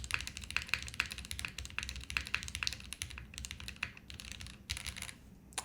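Steady close typing on a Haven TKL keyboard fitted with cap switches, soft rapid clicks and taps in uneven bursts with a few brief pauses, no talking.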